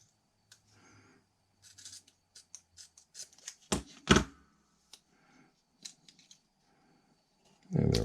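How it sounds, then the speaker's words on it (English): Strips of tape pulled, torn and pressed down inside the mechanism of a cheap chamfer plane, heard as a string of short close crinkles, rips and taps with pauses between them, ending in a louder rustling handling noise. "put some of this tape down in there"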